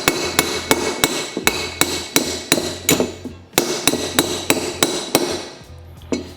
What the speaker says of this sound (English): Hold it straight and just kind of tap it.